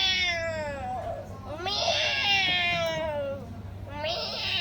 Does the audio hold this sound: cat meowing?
yes